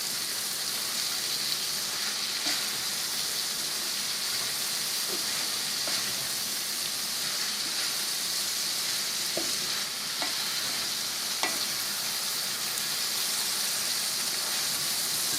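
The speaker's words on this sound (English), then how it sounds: "Here goes my 5 pieces of bacon. I'm going to stir that in." Five pieces of bacon fry in a pot for a one-pot sausage, spinach and potato meal, giving a constant bright sizzle with occasional soft clicks of stirring, close and even throughout.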